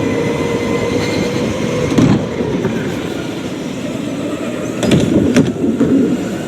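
A race car engine with a sticking gas pedal drones on steadily, loud and continuous, swelling briefly twice without easing off.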